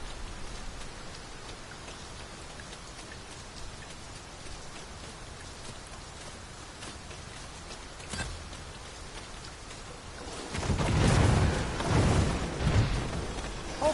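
Steady rain falls in Dragon's Dogma 2 as a constant hiss, swelling into a heavier, louder downpour with low rumbles near the end, with no talk over it.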